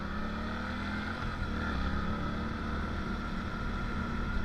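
A 2024 Suzuki GSX-8S motorcycle cruising on a highway makes a steady engine drone blended with heavy wind rush, continuous and close, with no talking.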